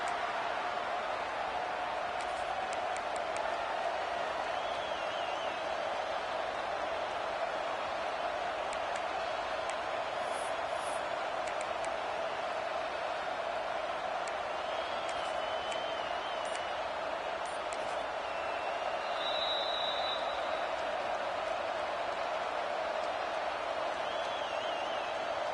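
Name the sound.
stadium crowd noise in NCAA 26 football video game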